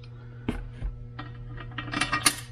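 A torque wrench ratchets a bolt down into a Subaru EJ25 engine block, giving a short run of faint, close metallic clicks and taps.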